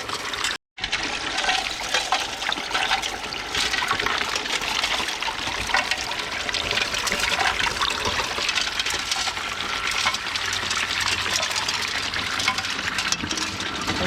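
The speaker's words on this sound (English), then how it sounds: "Looks like we're getting some really good water flow across all the mats." Water gushes steadily across Gold Cube sluice mats in a recirculating gold-panning setup, a loud continuous rush that starts after a brief dropout near the beginning and runs on without pause or voices.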